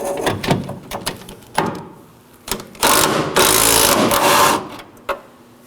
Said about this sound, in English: I'm going to go ahead and remove my four 13mm nuts holding the bumper